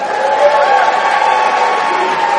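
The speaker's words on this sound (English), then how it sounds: "the people from South Carolina need to cheer down a little bit" A South Carolina crowd at a spiritual recovery roundup cheering and whooping, a dense, sustained wash of voices filling the room without pause.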